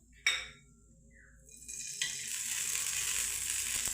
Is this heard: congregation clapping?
no